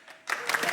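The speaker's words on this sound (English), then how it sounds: "Yes, a big round of applause." A studio audience on a British quiz show breaks into applause, a brief burst of clapping starting abruptly after a quiet moment and swelling to a dense patter.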